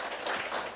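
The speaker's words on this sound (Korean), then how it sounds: "우리 큰 박수 좀 줘주십시오" Brief burst of applause from an audience at a morning business meeting, a dense patter of clapping hands filling the moment without any voices over it.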